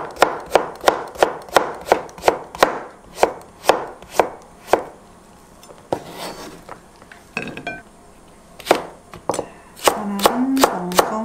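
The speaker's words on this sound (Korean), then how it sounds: "반 달로 쓸게요" Knife chopping a vegetable into half-moon slices on a cutting board for egg soup, a quick regular run of close, crisp thuds, a brief pause, then more chops and light clinks of utensils.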